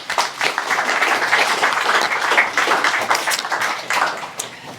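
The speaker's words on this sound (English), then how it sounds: "Applause to everyone." Warm, sustained applause from a seminar audience at a talk on AI dangers, a steady wash of many hands clapping close by that fades slightly at the end.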